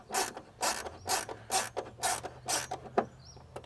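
A small wrench works a fitting on a medicine cabinet for a Ford Bronco, giving close, rhythmic ratcheting and scraping strokes, about seven evenly spaced bursts.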